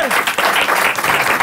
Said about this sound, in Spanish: Quiero un aplauso enorme para una Aguilera,